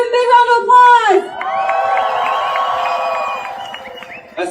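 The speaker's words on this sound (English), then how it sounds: "So give him a big round of applause" A crowd at a #StandWithPalestine rally in St. Paul, Minnesota cheers and whoops in a sustained, loud swell after a brief stretch of voices, then fades.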